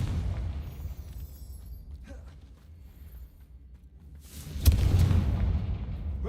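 A Confringo fire spell goes off in Hogwarts Legacy, a muffled low boom that swells about two thirds through over a dull game rumble, with no talk.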